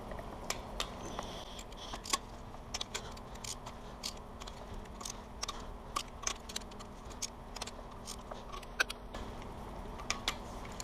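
A torque wrench tightens bolts to 177 inch-pounds on a Mercedes GL350 OM642 diesel engine rebuild, heard as scattered sharp ticks and clicks over a low steady background hum.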